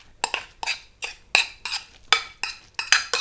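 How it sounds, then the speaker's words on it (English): A spoon repeatedly clinks and scrapes against a bowl while mixing gluten-free vegan seed roast loaf ingredients, a steady rhythm of sharp, close knocks with no one speaking. "Then I'm going to mix that in with the rest of the ingredients."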